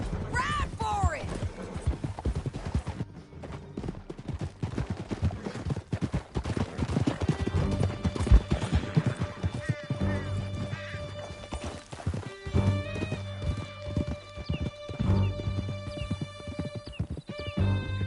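Horses gallop with steady clip-clop hoofbeats and occasional whinnies during a chase through a canyon in Red Dead Redemption 2, with distant gunfire, music and shouted voices mixed in throughout.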